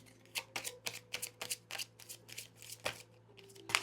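Tarot cards being shuffled by hand, a quick run of crisp riffling bursts and snaps, close and moderately loud, with no talking.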